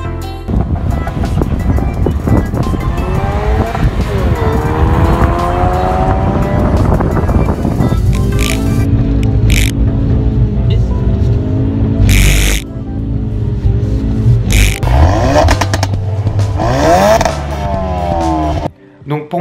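Ford Focus RS with a 350-horsepower four-cylinder engine and four-wheel drive, driving on road and circuit, engine note rising and falling loudly through gear changes, wind rushing over it, and voices talking in places.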